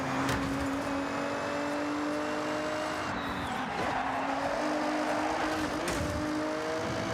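A Nissan GT-R races in the Forza Horizon video game, its engine holding a steady high drone with shifting pitch, alongside brief tire noise and continuous road rumble at full volume.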